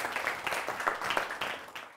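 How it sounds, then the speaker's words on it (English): Students in a Year 5 English classroom clap together, a thin, uneven patter of hands that rises and dips over a couple of seconds at moderate distance. "big clap for all of you"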